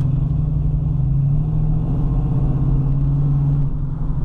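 A 1970 Ford Mustang Coupe engine pulling hard through the gears, a loud, close, steady low rumble with pitch that rises, dips at a shift and climbs again, with no voices.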